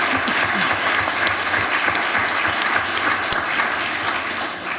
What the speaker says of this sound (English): just have a round of applause for our really excellent panel